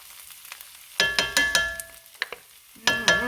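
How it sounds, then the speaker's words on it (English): Garlic being stirred in a hot pan, heard as a quiet sizzle broken by a run of bright, ringing metallic clanks and scrapes from the utensil, close up with no voices. "Stir that garlic for about 30 seconds."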